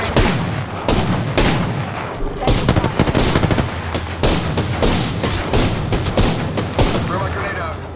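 Rapid automatic gunfire with heavy booms and thuds from a first-person shooter match, loud and continuous with dense bursts throughout, a voice calling out briefly over the shooting.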